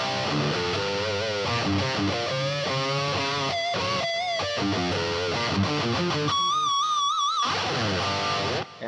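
An electric guitar runs through a high-gain distortion patch on a Hotone Ampero, playing loud, saturated riffs with bends and a long, wavering held note near the end before a sudden stop.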